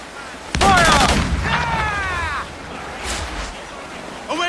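Ship cannons from a pirate vessel in Assassin's Creed 4 Black Flag boom in a sudden loud volley, followed by rumbling, shouted crew voices and further muffled blasts, with sea ambience underneath.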